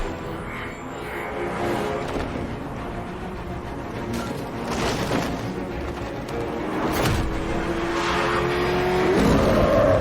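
Batmobile from the video game Batman: Arkham Knight driving, a steady loud engine drone with revving swells, a skid-like sweep and a rising whine near the end, no talk.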